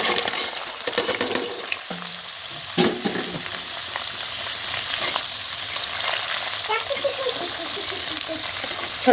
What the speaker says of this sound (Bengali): হালকা করে পনিরের পিসগুলো ভেজে নিই চলো বন্ধুরা